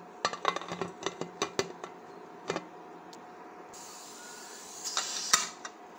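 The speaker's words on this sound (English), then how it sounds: "Just give a stir now and then cover it with the lid. Close the cooker." A cooker lid is closed over a pot of vegetable biryani, making a cluster of close metallic clinks and taps. A quieter stretch follows, then one final knock with a brief hiss.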